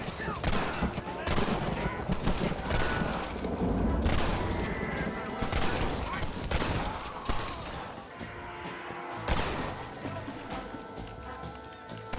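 Rapid gunfire from a shootout in Red Dead Redemption, a dense volley of sharp cracks and booms in irregular bursts throughout, with a voice shouting faintly in the mix.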